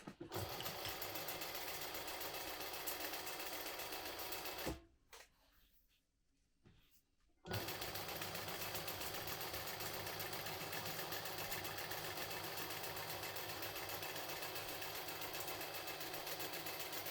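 A sewing machine runs steadily, stitching a lining and foam sandwich at the top edge for a modified Trailblazer, with a brief pause of near quiet midway before the motor resumes and continues alone.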